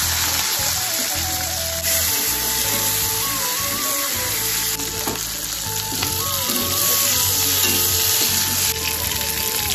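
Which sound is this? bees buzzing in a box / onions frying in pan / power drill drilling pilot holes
onions frying in pan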